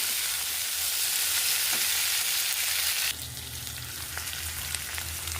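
String beans tossed into a hot pan of onion, garlic and tomato for adobong sitaw, giving a loud, even sizzle that drops to a lower, steadier frying hiss partway through, with light scattered clicks of stirring.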